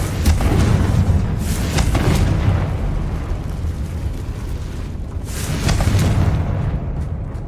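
Magical blast from the Confringo fire spell in Hogwarts Legacy, a loud booming burst with rumbling low end, followed by a second swelling boom a few seconds later amid continuous game ambience.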